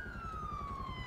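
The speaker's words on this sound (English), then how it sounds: "Is that a police car or something?" A police car siren in the GTA 5 video game wails in a steady, slowly falling tone, loud and continuous over a rumbling engine bed.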